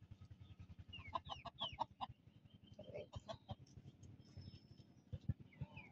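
Pet chickens outdoors after rain, clucking repeatedly in short bursts and broken calls, fairly close with a faint steady background rumble.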